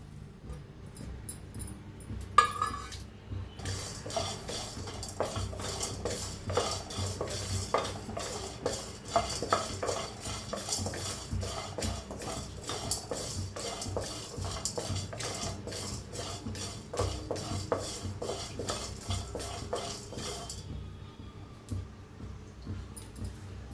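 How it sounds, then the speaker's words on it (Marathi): Garlic, coriander and sesame are dry-roasted together in a pan for a green masala egg curry. A spoon scrapes and stirs steadily for about twenty seconds, with clinks and rattling spice grains throughout. "तर आपण हे पहिलं भाजून घेऊया मसाले"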